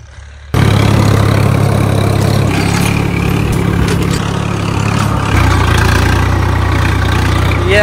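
A 735 tractor pulls a 9-tine cultivator sowing wheat in a field, its heavy diesel engine kicking in loudly after a brief quiet start and then chugging steadily and continuously up close.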